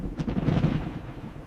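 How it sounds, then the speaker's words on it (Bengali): Cartoon thunder with a single deep, booming rumble that swells and then slowly fades, heard on its own without voices. "এটা শুধু মেঘ ডাকছে। এটা বজ্র বাবা"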